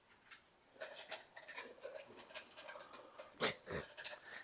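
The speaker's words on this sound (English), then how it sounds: "Good old dog chewing in the background" A dog chews nearby in a quiet room, soft irregular gnawing and wet clicking bursts with a few sharper crunches.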